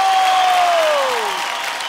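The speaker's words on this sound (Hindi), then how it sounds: "भेड़िया के लिए तालियां।" Studio audience applause for the wolf-themed film Bhediya on a televised singing show stage, a steady dense wash of clapping that slowly fades, with a sustained musical tone sliding downward over it.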